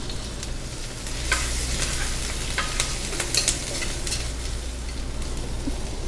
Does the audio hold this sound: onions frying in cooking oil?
yes